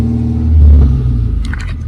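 A 1975 Citroen D Super 5 driving along, with a steady low engine rumble and a slight swell in revs, close and loud.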